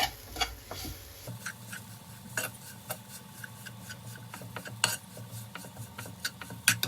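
Grated sweet potato being stirred and fried in ghee for halwa, with a steady run of light spoon-and-pan scrapes and clinks over a low frying hiss, close and without talk.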